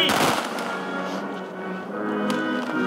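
Ceremonial salute fired at a memorial marking the full lifting of a wartime siege blockade, in frosty winter air: a loud opening burst, lingering rumble, then another sharp crack near the end.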